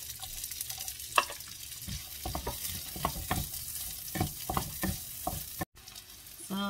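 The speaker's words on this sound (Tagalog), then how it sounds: "maglalagay naman tayo sa kawali ng konti. So, ilagay na natin yung ating onion." Onion sizzling and frying in a pan, with irregular crackles and stirring scrapes at close range, fairly quiet, no talking.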